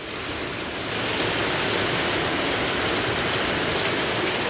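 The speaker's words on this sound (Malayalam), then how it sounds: "വേനൽ മഴ പെയ്തോ" Summer rain falling outdoors at night near a lit street, a steady dense hiss of drops that swells slightly in the first second and then holds level and fairly loud, with no voices.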